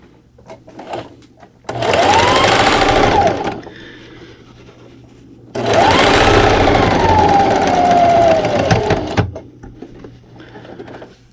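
A sewing machine backstitches a dish towel in two loud, close bursts of rapid whirring motor and needle clatter, the pitch rising and falling as it speeds up and slows, with quiet gaps and faint handling clicks between.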